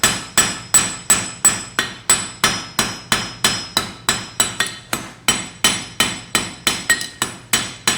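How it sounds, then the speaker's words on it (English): Steel leaf pendant hand-forged with a hammer peen, sharp metallic strikes falling in a steady rhythm of roughly two per second, about sixteen ringing blows close and loud with brief decays between. "I use my peen, starting from the middle and forging to the sides, pushing the material"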